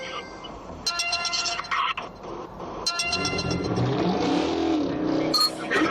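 A fleeing car's engine revs loudly during a police chase, roaring and rising in pitch amid road noise, with a few brief voice fragments.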